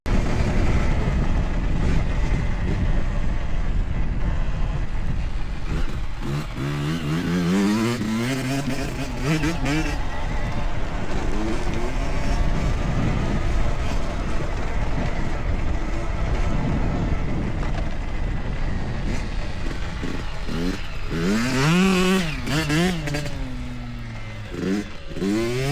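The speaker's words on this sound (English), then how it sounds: "Hudson just wrapped up her first, I'm gonna call it quote unquote moto, on the YZ65" A Yamaha YZ65 dirt bike engine buzzes loudly and continuously while being ridden on a track, with rising and falling revs as it accelerates and backs off, and wind noise across the whole stretch.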